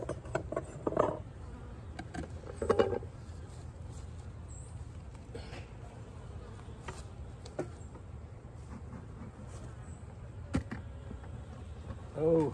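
Bees being fed dry sugar buzz faintly around, a soft insect drone broken by scattered light clicks and taps.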